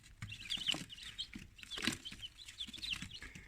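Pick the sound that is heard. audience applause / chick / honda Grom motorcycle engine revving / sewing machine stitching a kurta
chick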